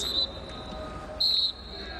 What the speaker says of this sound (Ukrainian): на цьому лунає фінальний свисток